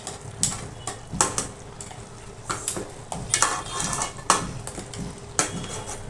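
In a home kitchen, a metal lid clanks off a pot of cooking stuffed crab, followed by a run of sharp clinks and scrapes of utensils against the pot over a faint sizzle.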